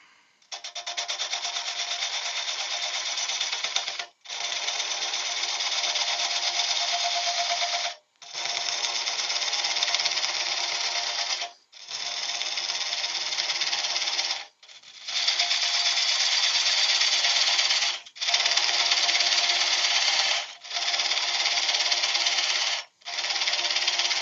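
Wood lathe spinning a spalted beech bowl at about 500 RPM, a steady loud hissing scrape from the cutting tool in long even passes with brief breaks between them.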